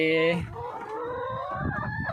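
Laying hens on a Thai farm cluck loudly and nearby, with a brief crow-like call at the start and then steady overlapping clucking. Someone talks quietly underneath.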